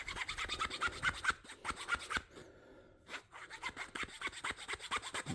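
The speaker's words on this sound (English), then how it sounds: "this is just a coarse round file, but it doesn't do great for metal" A coarse round rasp works a hole in a metal vise soft jaw with close, repeated rhythmic rasping strokes and a brief pause in the middle.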